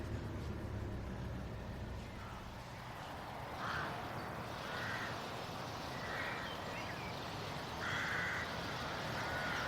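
Rooks caw from a nesting colony at High Ash Farm at peak nesting season, several short harsh calls at moderate distance over a constant low rumble of traffic, with no voices.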